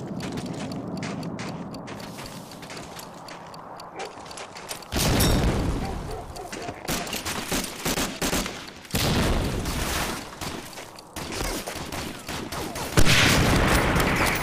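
Automatic STG rifle fire in the World War II shooter Medal of Honor: Allied Assault on a snowy park map, loud bursts cutting in around five, nine and thirteen seconds over steady game noise and mechanical clatter.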